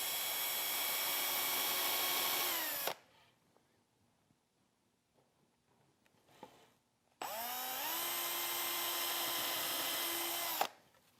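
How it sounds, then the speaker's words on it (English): A power drill bores pilot holes into the end of a wooden bench stretcher, two loud, steady whining runs of about three seconds each, separated by a quiet pause with faint handling sounds. "Then I'll just drill pilot holes in the end of the stretcher."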